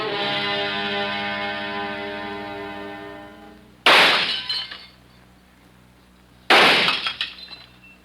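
Two sharp, loud bursts of breaking glass as bottles are shot and shatter, each crash followed by tinkling fragments, after a sustained musical tone fades out.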